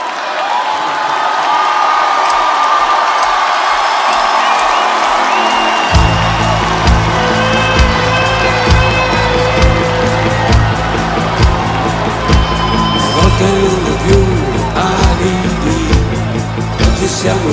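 Large concert crowd applauding and cheering for Valentino Rossi at a concert, a loud continuous roar of claps and shouts with music-like tones running underneath.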